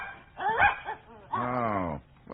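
Dog under a piano whimpering and yipping in short uneven cries, close and moderately loud, in an old NBC University Theater radio drama of Booth Tarkington's Penrod.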